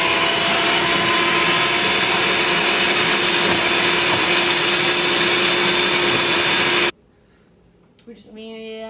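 An electric mixer whirs through wet chocolate banana cupcake batter of mashed bananas, oil and eggs, a loud steady motor drone for about seven seconds before it cuts off, followed by a brief voice.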